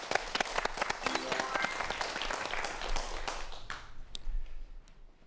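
Audience applause for a lecturer at a Korean science talk, dense clapping at first that thins and fades toward the end, with a voice briefly heard over it.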